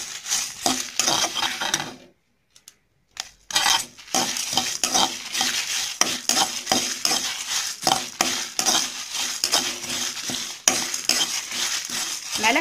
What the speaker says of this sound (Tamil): மிளகாய் லைட்டா அந்த சூடு பட்டா போதும், கருப்பாகிற அளவுக்குலாம் வறக்க வேணாம்